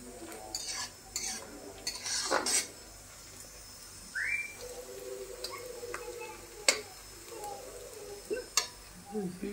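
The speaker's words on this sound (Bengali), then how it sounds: "তো পেঁয়াজগুলো ভাজা হচ্ছে" Onions frying in a pan while a utensil stirs and scrapes them, intermittent clinks and scraping strokes over a low sizzle, with a brief whistle-like tone partway through.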